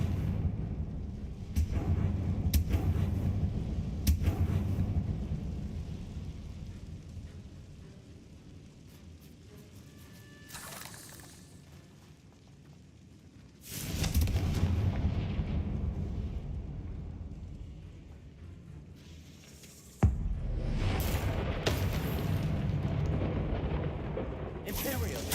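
Fiery Confringo spell blasts in Hogwarts Legacy boom out in several loud bursts with long rumbling rolls, separated by quieter lulls and sharp magical impacts during combat.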